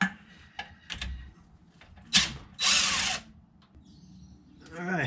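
A power tool whirs in short bursts while removing the bolts from a Ford 8.8 axle cover, with ratcheting clicks and clatter between runs, close up and loud.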